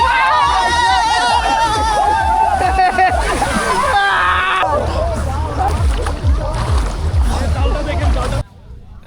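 Water splashes and sloshes loudly as a group bathes at Mayadwip island in Sonargaon, Narayanganj, with lively chatter and shouting voices over the churning water until it cuts off near the end.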